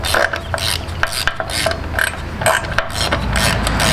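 A ratchet wrench tightens a bolt on a car transmission during a hydraulic clutch conversion, giving rapid, close clicking strokes in repeated short bursts that continue steadily across the clip.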